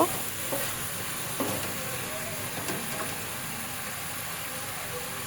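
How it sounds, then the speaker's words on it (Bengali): Hilsa fish and green banana curry is stirred in a pan, a loud, continuous sizzle with repeated scraping strokes of a spatula every second or so, close up and without speech. "এখন আমি সব কিছু ভালো করে নেড়েচেড়ে নিচ্ছি। নেড়েচেড়ে সব একসাথে সব মিক্স করে নিচ্ছি।"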